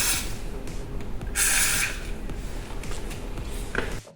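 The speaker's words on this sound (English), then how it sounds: "so a bit of penetrating fluid" Penetrating fluid sprayed from an aerosol can onto rusty bolts while fitting a strut brace on a Jaguar XF, a few short hissing bursts with one long, loud blast in the middle and a quieter spurt near the end.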